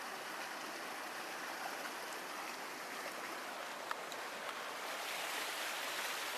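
A mountain stream in Colorado's Chicago Basin rushes steadily and close by, a dense, even hiss of flowing water with no pauses, alone for the whole stretch.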